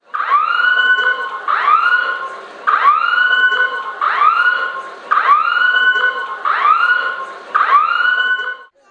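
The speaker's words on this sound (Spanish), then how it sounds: "Las alarmas en Puebla sonaron." An earthquake warning siren in Puebla, Mexico wails in repeated rising-and-falling cycles, about seven loud identical pulses in a steady rhythm, with no other sounds.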